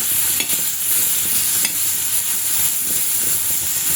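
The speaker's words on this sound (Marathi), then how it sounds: "आपण इथे हलकेसे टॉमॅटो परतवून घेतले" Tomatoes, raw green ones for chutney, sizzle steadily on a hot iron griddle, with a spatula scraping and stirring in short repeated strokes.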